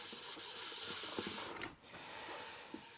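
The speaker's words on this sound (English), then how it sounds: "Now you go in circles like this and you're burnishing that paste wax." Horsehair brush rubbing paste wax in circles over a wood surface, a soft, continuous brushing and rubbing hiss with slight rhythmic swells, close and fairly quiet.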